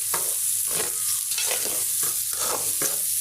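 Lentils sauté with onion, garlic, turmeric and green chilli in a hot pan, a close loud sizzle broken by repeated rhythmic scraping strokes of a spoon stirring, with no talking.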